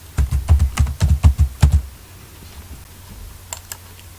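Quick bursts of keystrokes on a computer keyboard while entering data in a spreadsheet, a dozen or so close, crisp taps in the first two seconds, then near quiet with a couple of faint clicks.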